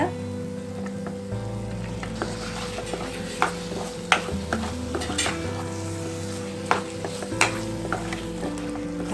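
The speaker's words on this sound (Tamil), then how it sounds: "தக்காளியை போட்டு நல்லா வதக்கிக்கணும்." Chopped tomatoes fry in a pepper chicken gravy and are stirred, giving a close, steady sizzle with irregular spoon scrapes and knocks against the pan over a low background hum.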